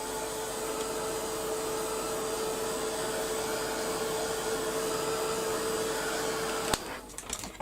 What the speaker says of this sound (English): So I'm going to give that a quick blast with the gun.